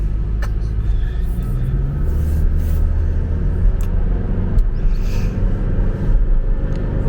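A Lexus NX 450h+ F-Sport plug-in hybrid pulls away from a green light with a steady, loud low rumble of road and drivetrain noise, continuous throughout with faint higher clicks on top.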